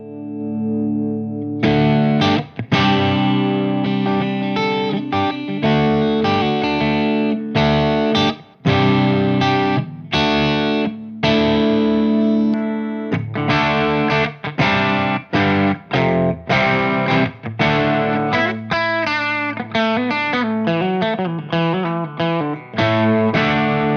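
Electric guitar played through a Synergy Morgan AC amp with the gain raised into crunch, strummed chords and picked notes ringing out with mild distortion, loud and close, alone without talk.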